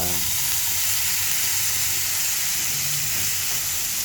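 Bitter gourd (ampalaya) sautéing in a hot pan gives a steady, close sizzle and hiss of frying that runs unbroken throughout, with no talking.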